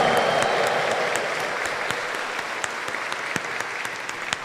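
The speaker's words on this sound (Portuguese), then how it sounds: "dê uma salva de palmas para Ele" A church congregation applauding during Sunday Mass: a full burst of clapping from many people that slowly thins into scattered, distinct claps toward the end.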